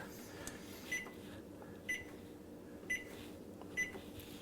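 Microwave oven keypad or timer beeps, four short evenly spaced tones about one second apart, fairly faint over a low room hum.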